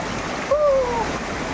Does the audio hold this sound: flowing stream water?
yes